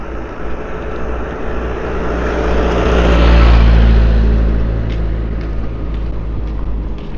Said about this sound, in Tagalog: Mga sasakyan sa kalsada.